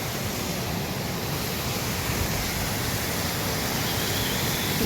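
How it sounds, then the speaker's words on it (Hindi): Dangerous mountain waterfall on the Amarnath pilgrimage route in the Himalayas, a loud, constant rushing roar of falling water with no breaks, filling the whole span without voices. "बहुत ही खतरनाक और बहुत ही भयानक यहाँ पर झरना है।"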